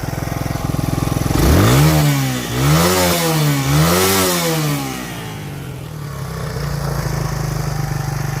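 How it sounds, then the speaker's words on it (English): A 1987 Suzuki SP 200 dual-sport motorcycle engine, barn-find restoration with a bogging fault, idles then revs up sharply in several rising and falling surges before settling back to a steady idle, close and loud. "It is still bogging down at like high RPMs while moving."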